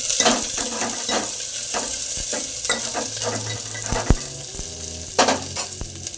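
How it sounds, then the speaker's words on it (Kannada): Green chillies fry and get stirred in a pan for a village-style green gram palya: steady close sizzling with repeated scraping stir strokes and a few sharp clinks, no voices. "ಮೂರು ನಾಲ್ಕು ಹಸಿರು ಮೆಣಸಿನ್ಕಾಯಿ ಹಾಕಿ ನೀಟಾಗಿ ಮಿಕ್ಸ್ ಮಾಡಿಕೊಡಿ"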